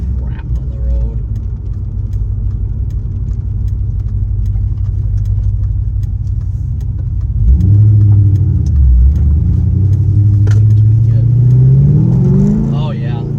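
A Chevrolet C6 Corvette drives in second gear on a wet, rainy road. The engine drones low at first under some talk, then climbs in a loud, rising pull as the car accelerates.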